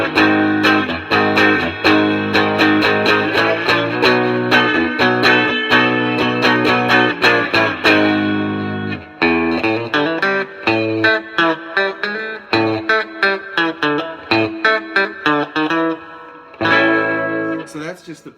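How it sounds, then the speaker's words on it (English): Rickenbacker 330 electric guitar played through a Boss Katana 50 amp with reverb, a loud strummed chord passage giving way to picked, ringing notes with a reverb tail, alone without talk. "A little less reverb"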